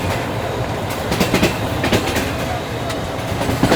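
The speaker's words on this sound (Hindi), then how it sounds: "ये ट्रेन भी मलिया कॉलोनी पर रुक गई" A Karachi Express passenger train rolls on rails in Sindh, with steady broadband rumble and clickety-clack wheel beats heard close from on board, a few sharper clacks punctuating the continuous noise.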